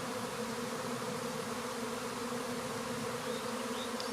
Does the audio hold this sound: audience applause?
no